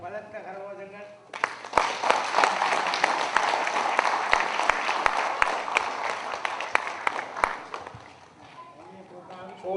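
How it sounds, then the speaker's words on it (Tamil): Audience applause at a Toronto CD release event for SaReGa Music, a dense burst of clapping that swells after a spoken introduction, holds steady for several seconds, then fades as speech returns. "உங்களுடைய பலத்த கரகோஷங்கள்."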